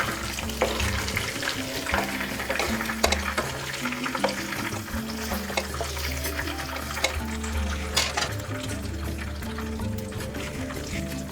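Prawns frying in hot oil in a pan give a steady loud sizzle and crackle with occasional sharper pops, continuing throughout without talk.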